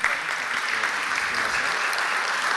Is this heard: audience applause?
yes